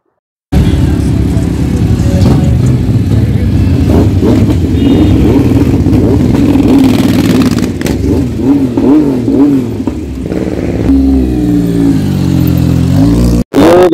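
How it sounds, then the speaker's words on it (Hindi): A Honda Goldwing 1800cc motorcycle engine revs loudly and close for about thirteen seconds, its deep steady rumble rising and falling in pitch through several throttle blips before cutting off abruptly near the end. "देखिए साहब, ये होंडा गोल्डविन है"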